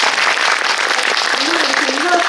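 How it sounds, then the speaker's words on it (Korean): An audience at a special Q&A screening event with director Ryusuke Hamaguchi claps in a steady, dense burst, with a voice starting to speak over it. "박수 한번"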